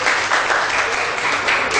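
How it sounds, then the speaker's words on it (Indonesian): Crowd applause at a fire-safety community launch event in Surabaya, a steady dense wash of clapping throughout the short stretch. "Tepuk tangan untuk kita semua."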